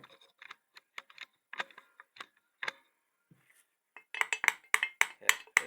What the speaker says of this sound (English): Let's just tap on it.